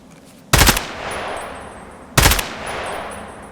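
Automatic gunfire outside in Escape from Tarkov, played without in-game headphones: two loud, harsh bursts roughly 1.6 seconds apart, each followed by a booming outdoor tail that fades slowly.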